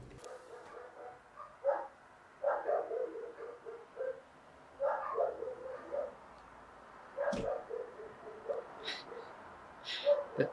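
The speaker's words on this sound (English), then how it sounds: "all of my neighbors' dogs lose their minds. So much barking" Several neighborhood dogs bark in repeated bursts with short yips between them, moderately distant and echoing outdoors, the barking coming in waves about every two to three seconds.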